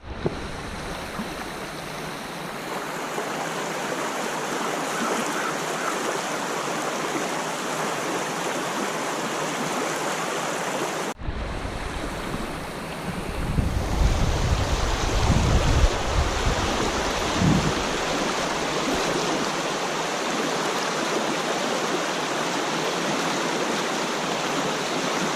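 Fast-flowing river water rushes steadily in a tributary run, a loud broadband roar with a brief cut partway through and a stretch of heavier low-end churning and wind buffeting.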